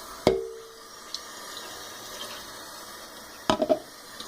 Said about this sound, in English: Let's rinse it out.